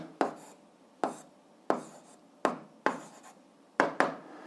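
Chalk or marker strokes while an algebra solution is written out, seven sharp taps each trailing into a short scratching stroke, close and clear in a quiet room with no voices.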